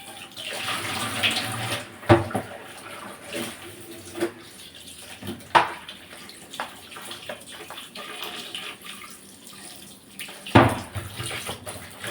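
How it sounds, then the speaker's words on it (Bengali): Tap water runs into a sink while fish is washed with turmeric and salt, a continuous close splashing flow broken by sharper clatters and splashes from handling, with no talking. "এদিকে কিছু মাছ ধুয়ে নিচ্ছিলাম হলুদ লবণ দিয়ে"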